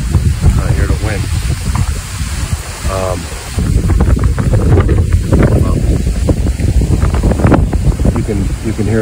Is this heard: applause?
no